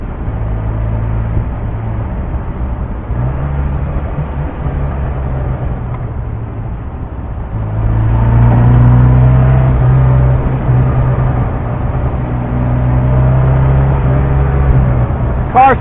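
A 1970 MGB sports car drones along back roads at around 50 mph, its steady engine and road noise swelling louder partway through, heard from inside the cabin.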